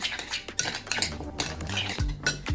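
A spoon stirs deviled egg filling in a bowl, with repeated close scrapes and clinks of metal against the dish in an uneven rhythm, no talking.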